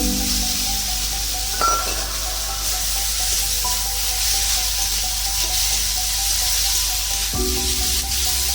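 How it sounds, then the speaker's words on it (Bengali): Prawns fry and sizzle in a pan of spice paste for a Bengali banana-stem and prawn curry, giving a steady, close hiss with a few soft clinks of a utensil against the pan. "এবার এর মধ্যে চিংড়ি মাছটা দিয়ে দেবো। একটু কষে নিয়ে"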